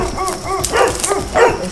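Thin, emaciated dogs at a neglected property give short barks and high whimpering yips in quick bursts, close by, with background noise.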